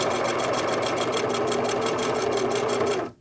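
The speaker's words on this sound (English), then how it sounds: "place them under the sewing machine, lower the needle, back tack, and straight stitch down the seam" A sewing machine runs a straight stitch down a seam joining quilt fabric squares, a fast, even mechanical whir with rapid rhythmic needle pulses, close and continuous before stopping abruptly.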